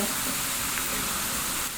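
Steady, dense sizzling of sugared sweet potato slices frying in hot oil, a continuous crackling hiss close by with a slight stir near the end.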